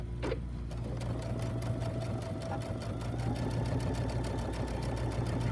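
Sewing machine stitching fabric in one straight pass, a steady fast needle rattle with a low motor hum running throughout, close and continuous with no pauses.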